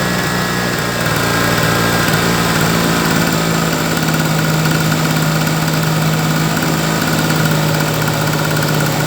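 A petrol generator that puts out over 300 volts runs at a steady, loud, close drone with a constant hum and slight vibration, no clear start, no voices.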